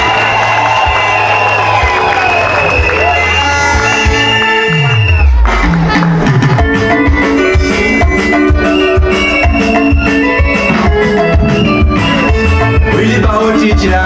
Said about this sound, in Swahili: Shangwe nderemo na vigelegele.